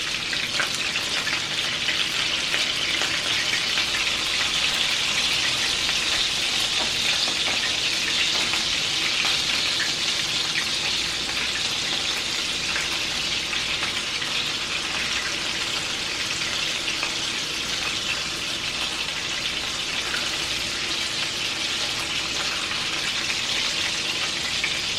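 Ground turkey burgers fry in a skillet with a steady, dense sizzle throughout, loud and close with no talking, the hiss holding an even level from start to finish.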